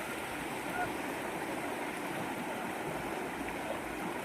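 A swollen, flooded river rushes past in a constant broadband roar of flowing water, steady and close throughout with no pauses.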